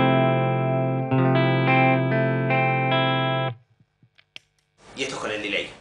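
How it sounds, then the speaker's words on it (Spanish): A clean, dry electric guitar with no effects plays a ringing chord, then a few more held notes before cutting off sharply. A few soft taps follow, then a brief burst of a voice speaking. "Así que esta es la señal limpia."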